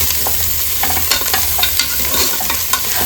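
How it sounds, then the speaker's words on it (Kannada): Goat leg pieces fry in ghee with salt and turmeric for paya soup, giving a steady close sizzle broken by light stirring scrapes and taps. "ಉಪ್ಪು ಮತ್ತು ಅರಿಶಿಣ ಪುಡಿ ಹಾಕ್ಕೊಂಡು ನೀಟಾಗಿ ಫ್ರೈ ಮಾಡ್ಕೊಳ್ಳೋಣ"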